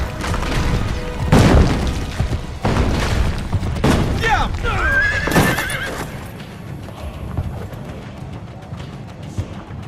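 A horse in Assassin's Creed: Brotherhood whinnies loudly and clip-clops along amid game effects and dull booms, with voices in the mix, loud and close before fading toward the end.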